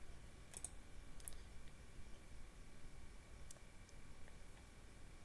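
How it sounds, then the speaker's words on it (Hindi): A computer mouse clicking through an online application form, with a few faint, sparse clicks over a quiet background hiss. "इस पर क्लिक करेंगे।"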